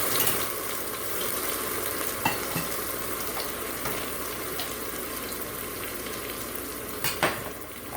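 Ginger, garlic and onion paste fries in oil with whole spices inside an Instant Pot, giving a steady, moderate sizzle with a couple of brief utensil knocks, and no talking.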